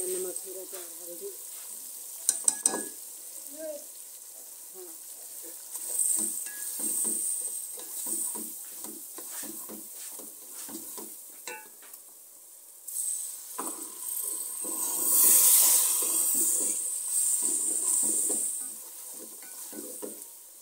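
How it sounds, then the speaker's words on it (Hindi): Masala with salt, chili and turmeric roasting in a pan, a steady sizzle with scraping spoon stirs and occasional clinks of the utensil, louder hissing toward the end. "मसाला मैंने भून लिया है,"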